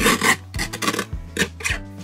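Scissors cut patterned craft paper corner to corner for a card, giving a series of rasping snips in short bursts with brief pauses between, close and fairly loud.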